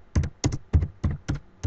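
Six evenly spaced clicks, each a quick double-tap, as someone types a short word on a computer keyboard. Close and crisp, with no voice.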